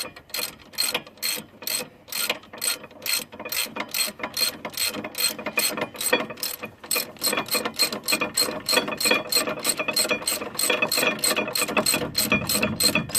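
A ratchet clicks in quick, rhythmic bursts as it tightens a caliper slide pin bolt on a 2004 Honda Element. The clicking is close, crisp and continuous, speeding into a fast steady run toward the end.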